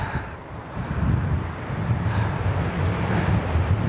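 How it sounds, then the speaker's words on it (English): Strong wind sweeps through Valle Frances in Torres del Paine, Patagonia, roaring and buffeting the microphone in a loud, continuous rumble with no voices. "the wind is really strong"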